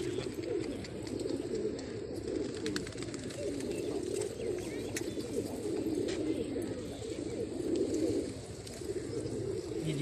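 Black high-flying racing pigeons coo in a steady, throaty, overlapping chorus close by, with faint chirps and rustling mixed in and no talking.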